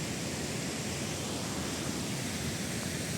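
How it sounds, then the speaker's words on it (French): Small waterfall along a footpath near someone's home, a steady broadband rush of falling water that holds constant and fairly close throughout, with no voices over it. "Petite cascade, c'est pas non plus les chutes du Niagara"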